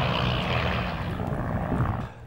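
A de Havilland passenger biplane from the Croydon Aircraft Company flies at an air show, its propeller engine a loud, steady droning roar that fades slightly at the end.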